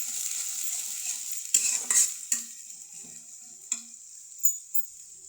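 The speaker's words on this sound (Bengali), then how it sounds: "এখন পেঁয়াজটাকে লাল করে নেব" Onions fried in a wok crackle steadily while a utensil scrapes and knocks against the pan in a few distinct strokes; close and clear, with no one talking.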